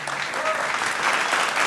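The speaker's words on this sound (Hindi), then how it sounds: "इस बात के लिए एक बार पहले जोरदार तालियां होनी चाहिए।" An audience at a film festival talk show breaks into loud, sustained applause, a thick wash of clapping heard close and constant with a faint voice beneath.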